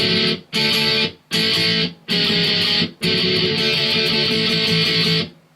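Distorted electric guitar plays loud, chunky chords in short bursts with brief gaps, then one long sustained chord that cuts off at the end.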